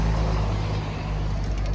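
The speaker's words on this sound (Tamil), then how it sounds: "இது எல்லாமே லோக்கல் பஸ்ஸு" Local buses idle and move around the Chidambaram bus stand in Tamil Nadu, a loud continuous low engine rumble with traffic noise close by.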